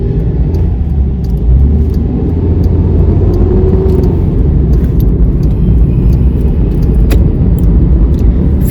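A car drives along with a loud, steady engine and road rumble filling the cabin throughout, with no speech over it.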